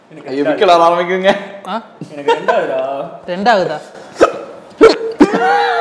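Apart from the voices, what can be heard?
hiccup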